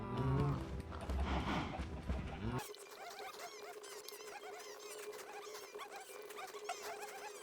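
Cows moo in the Minecraft video game, giving a couple of short, fairly faint calls at the start, followed by quiet ambient game sound.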